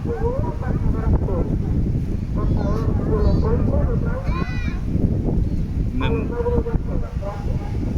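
A distant beach loudspeaker announcement in Spain drifts over steady wind and engine rumble, with a person talking nearby over it.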